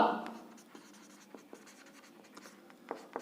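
Chalk or pen strokes writing a formula for the area of a right triangle in a class 7 maths lesson, a series of faint, short scratchy taps spread across the clip, with no talk.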